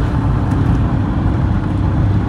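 Engines of an old Ford Endeavour and a new Mahindra Thar in a drag race, a steady loud roar of vehicles driving at full power with heavy low rumble and constant road noise throughout.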